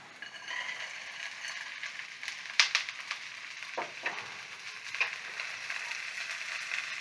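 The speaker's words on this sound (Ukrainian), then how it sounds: "Морква трохи обсмажилась і закидаємо овочі." Carrots and vegetables fry in a pan for a chicken-broth vegetable soup, a soft steady sizzle with a few scraping clicks of stirring, close and fairly quiet, without talk.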